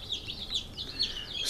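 Young laying hens and turkeys in side-by-side brooders under red heat lamps, giving constant high peeping and soft chirps close by with no talk.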